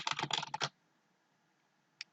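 A quick, dense burst of keystrokes on a computer keyboard as a folder name is typed, close and crisp, then a pause broken by one final isolated key press.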